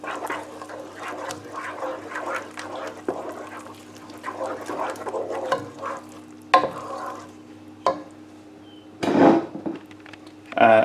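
A spoon stirs parsley into a Dijon mustard sauce for a homemade fish pie, giving soft scraping and swishing strokes in the pan with a few sharper clinks of utensil on metal, heard up close.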